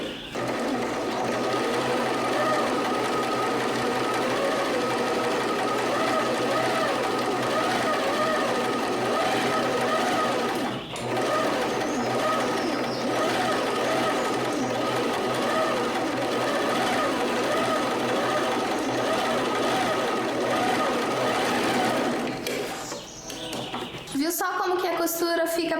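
A sewing machine runs continuously stitching a straight seam, a close, steady rapid mechanical whir that stops abruptly near the end, with someone speaking over it.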